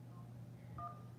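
Telephone keypad tones from a radio call-in line's automated prompt system, two short beeps, the second stronger, over a steady low hum.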